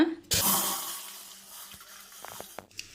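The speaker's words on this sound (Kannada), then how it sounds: "ಈಗ ಕುಕ್ಕರ್ಗೆ ಒಂದು ಚೊಂಬಷ್ಟು ನೀರು ಹಾಕ್ಕೊಳ್ಳೋಣ" A jugful of water poured into a pressure cooker while cooking an egg fry with drumstick leaves: a splashing gush starts sharply, then settles into a softer trickle with a few light clinks near the end.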